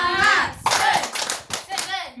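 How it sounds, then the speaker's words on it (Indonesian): Group rhythmic 'tepuk semangat' spirit clap during an icebreaker, several sharp clap bursts spaced unevenly and mixed with children's voices chanting and calling out over them. "Semua tepuk semangat, jangan ada yang tepuk lemah."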